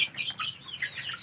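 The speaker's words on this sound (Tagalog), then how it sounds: "May nakapasok na manok." A farm chicken clucks in a quick, steady run of short calls, close and clear, with no voices.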